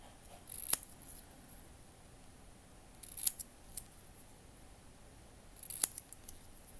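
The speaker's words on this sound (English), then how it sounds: "Let's do the last one of these where I cut the pages." Scissors snip through paper pages for a miniature room box book: three short, sharp cuts spaced a few seconds apart, close but fairly soft in a quiet room.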